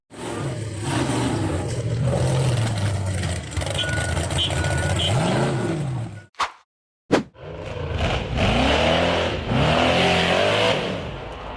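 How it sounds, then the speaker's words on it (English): An off-road buggy engine revs hard while climbing a steep rock face, loud and close with rising and falling pitch, cut by a brief silence and sharp impact bursts, then revving again. "The white buggy charged up the steep rock face, but it lost momentum, flipped backward, and tumbled down into the dirt pit."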